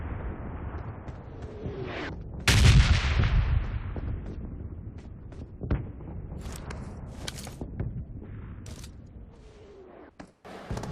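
Gunfire in the mobile battle-royale game Battlegrounds Mobile India: a heavy booming blast followed by scattered sharp shots and short bursts at irregular intervals over a low rumbling backdrop, with no talking.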